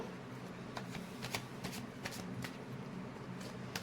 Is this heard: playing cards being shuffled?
yes